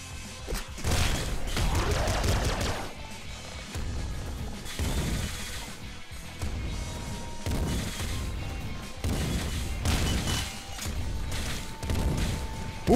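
Flare gun shots in the PC game Nuclear Throne, played on hard mode, fire as a loud, dense run of booming blasts and crashes that continues almost without a break.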